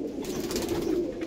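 Andhra pigeons, a pair of young from the same clutch, coo in a low, steady, continuous murmur that stays close and fairly even for the whole moment, with no talking.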